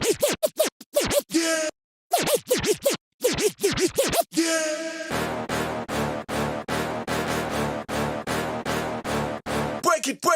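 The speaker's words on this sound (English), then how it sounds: "I'm scratching cue point 4 for 2 bars" DJ scratching a cue point on a Hercules DJControl Inpulse 500, choppy bursts of scratched vocal sample with short gaps, then a steady rhythmic run of sharp repeated cuts in a trap routine.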